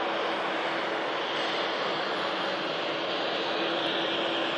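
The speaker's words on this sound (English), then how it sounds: "About to see a Finnair emerge here from the runway visitor park." Finnair Embraer airliner at Manchester Airport, heard from the runway visitor park as a steady, loud broadband jet engine roar holding constant throughout.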